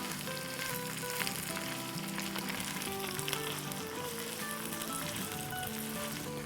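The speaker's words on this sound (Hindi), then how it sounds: "अब हम इसमें 1/4 कप अपना टमाटर की प्यूरी डाल देंगे।" Tomato puree sizzles and fries steadily in a hot pan while making kabsa rice, a constant close crackling hiss with faint stirring clicks.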